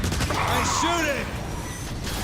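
Gunfire in the Transformers War for Cybertron video game, a steady dense barrage of shots layered with game effects and music, with a voice talking over it throughout.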